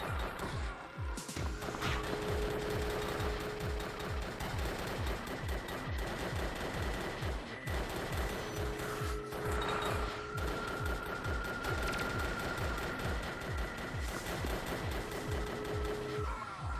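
Rapid, sustained automatic gunfire in the Xbox game Drake of the 99 Dragons, a dense rattling stream of shots that barely pauses, loud and continuous with a faint tonal hum underneath.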